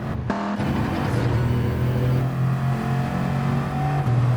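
A Gr4 race car at Le Mans in Gran Turismo 7 drones steadily at high revs, with a quick gear shift break early on and another near the end, loud and close throughout.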